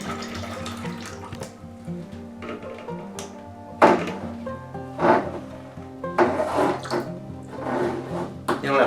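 Water drains from an LG washing machine drain hose in irregular gushes and splashes, close and fairly loud, with a person talking over it.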